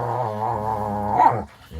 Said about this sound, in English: I do apologise about the dogs.